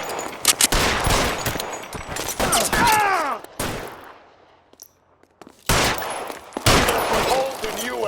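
Bursts of gunfire crack through a video game shootout in L.A. Noire, dense volleys and single shots clustered near the start and end with a quieter lull in the middle, shouting voices mixed in.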